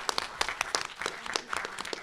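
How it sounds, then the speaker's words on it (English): Audience at a 2023 university student government presidential and vice presidential debate gives a round of applause, with dense, steady clapping lasting the full two seconds at moderate level. "Give yourselves a round of applause as well."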